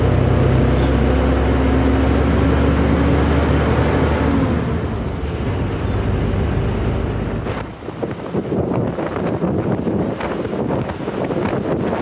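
Continuous road traffic rumble of cars and buses on a road between Ernakulam and Coimbatore, heard as a loud steady engine drone with wind noise that thins out partway through, leaving gusty, scattered noise.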